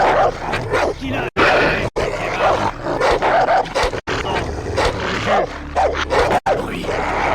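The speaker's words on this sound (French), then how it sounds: "Merde, des chiens." Dogs bark, yip and growl in the Far Cry video game, loud and nearly continuous with a few brief gaps, while someone talks over the barking.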